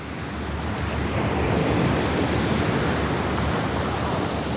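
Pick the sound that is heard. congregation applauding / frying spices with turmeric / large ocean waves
large ocean waves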